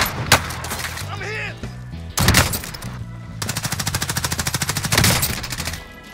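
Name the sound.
gunfire in video game Warzone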